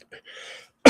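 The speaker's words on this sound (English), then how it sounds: "if I can stop coughing" A single person coughing sharply once near the end after a brief throat clear and faint breathy sounds, close and loud.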